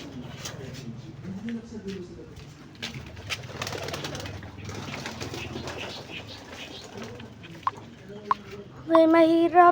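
Young pigeon fledglings cooing in soft, low repeated calls, with wing flaps and scattered knocks around them, while a person speaks nearby; a brighter, sharper bird call rises near the end.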